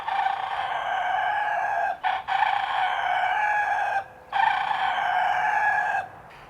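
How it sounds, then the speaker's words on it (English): A rooster crows loudly and close, with long drawn-out calls repeated three times in succession and brief pauses between them. "the rooster kept crowing"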